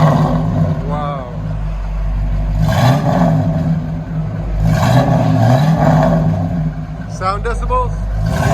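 A 1973 Ford Mustang Mach 1 V8 with true dual Flowmaster Super 10 exhaust idles loudly and blips its throttle in repeated rising revs, with brief background voices.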